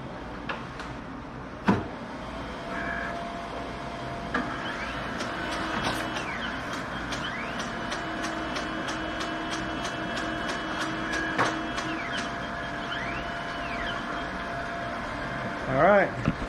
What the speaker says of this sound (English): I'm printing them right now